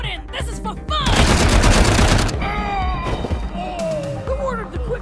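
Gunfire in the video game Wasteland 3 comes as a dense burst of rapid shots and booms, mixed with game character voices shouting over the action.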